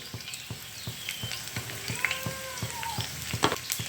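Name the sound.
garlic and cumin sizzling in hot oil in a pan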